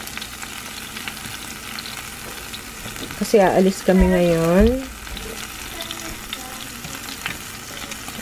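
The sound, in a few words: barbecue meat frying in a pan indoors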